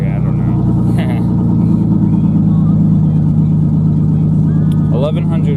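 A 1995 Ford Ranger V6 idling around 1100 RPM through a custom dual exhaust, a steady deep close rumble with an uneven stumble, while people talk over it.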